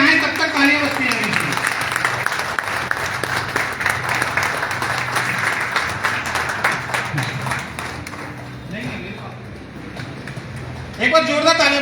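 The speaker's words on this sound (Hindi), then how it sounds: "तो जब तक स्टेज पे आए तब तक तालियां बजती रहेंगी" Dense audience applause fills a seminar hall at a WeCan distributor event in Bihar, steady and sustained for nearly the whole stretch, with voices mixed in and a brief dip before a final swell.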